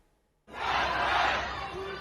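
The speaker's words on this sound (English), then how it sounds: "A crowd of protesters in Shanghai chanted, calling for the country's leader Xi Jinping to stand down" A crowd of protesters in Shanghai chanting together, a loud, dense mass of voices that bursts in suddenly after near silence and holds steady.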